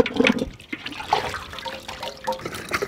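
Water pours and splashes in uneven bursts while a whole turkey of about five kilograms is rinsed inside and out for a village-style Indian grill, with trickling and dripping between the louder gushes.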